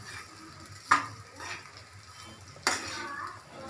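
Spatula scraping and stirring egg fried rice in a home kitchen pan, two sharp metallic clinks against the pan with softer scrapes between them, faint sizzling underneath, close and fairly quiet.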